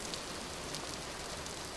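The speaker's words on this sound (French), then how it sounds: "désolé pour la pluie, hein, dans cette région," Continuous in-game rainfall from Vintage Story, a soft, uniform patter and hiss with a few slightly brighter drops standing out, heard alone and at low volume.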